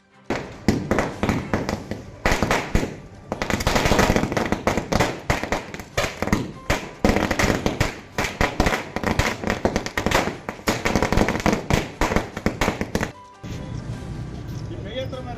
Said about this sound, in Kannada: ಅಭಿಮಾನಿಗಳು ಪಟಾಕಿ ಸಿಡಿಸಿ ಸಂಭ್ರಮಿಸಿದರು